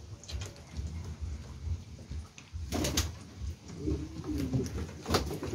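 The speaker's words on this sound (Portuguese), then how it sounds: "Olha o pombo." Pigeon on a rural smallholding, soft low cooing calls repeating faintly under outdoor ambience, with a brief rustle midway.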